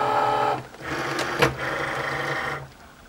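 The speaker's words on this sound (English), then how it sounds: "our Cricut light is blinking, so we can load our mat" Cricut cutting machine drawing in a loaded cutting mat, a steady mechanical motor whir with a sharp click near the middle, running on its own up close and stopping near the end.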